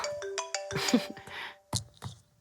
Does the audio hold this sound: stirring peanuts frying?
no